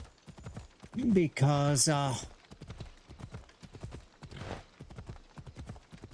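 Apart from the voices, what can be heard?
horse hooves trotting in video game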